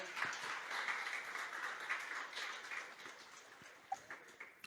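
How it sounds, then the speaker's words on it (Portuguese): Congregation clapping in a church after a prayer, a continuous wash of applause with a few sharper claps near the end, fairly faint and distant. "Você pode aplaudir ao Senhor."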